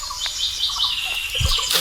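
A parrot in a forest giving a few short, high chirping calls, close by but not loud, with quiet ambient noise around them.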